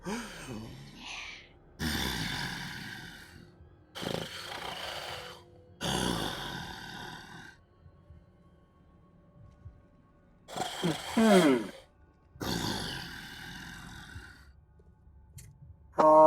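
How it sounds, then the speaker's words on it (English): Heavy, slow breaths from an unseen creature come in long, separate surges, some rasping like deep sighs and others with a growling edge, heard close up with quiet pauses between them. "the sound of something very heavily breathing"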